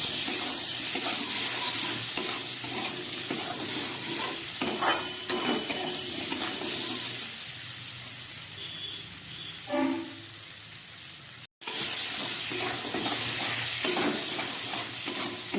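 Fish and kohlrabi being sautéed with turmeric and salt, a steady hissing sizzle with frequent spatula scraping and stirring, close up, briefly cut off near the end before the frying resumes; no one speaks.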